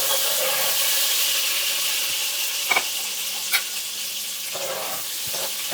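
Garlic butter and minced garlic sizzle in a hot pan for Jamaican-style pop chow, a steady bright hiss with a few sharp pops and spatters and a faint scrape of stirring.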